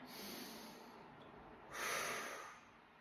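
A faint, soft breath cycle during a fascial maneuvers exercise class, with a quiet airy inhale through the nose and then a slightly louder, breathy exhale, alone and close.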